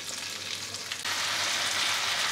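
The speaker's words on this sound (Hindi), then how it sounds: "मैंने एक बार फिर से साइड चेंज कर दिया था और 8-10 मिनट हो गए हमें इसे फ्राई करते हुए" Tandoori chicken fries in a pan with a steady, close sizzle that swells louder about halfway through and then holds even and dense, with no talking.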